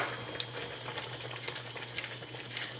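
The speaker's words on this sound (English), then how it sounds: "I'm going to add in half first and give that a stir" Sugar is being stirred into thickened, simmering milk for kalakand, giving a soft bubbling and scraping sound with faint irregular clinks, quiet and close with no talking.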